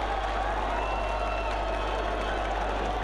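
Muay Thai fight crowd cheers in a steady wash of noise, a constant distant roar of voices under a low hum, holding evenly without clear peaks.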